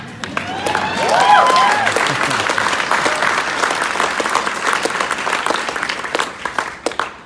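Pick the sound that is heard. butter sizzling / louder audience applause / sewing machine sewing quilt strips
louder audience applause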